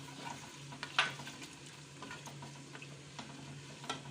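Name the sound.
onions frying in hot oil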